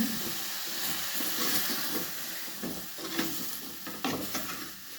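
Food stirred and mixed in a frying pan after chilli powder goes in, with scraping strokes over a steady sizzle, close and moderately loud, no talking.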